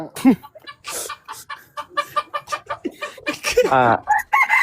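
Chickens cluck in quick, repeated bursts close by, and a rooster lets out a drawn-out crow near the end.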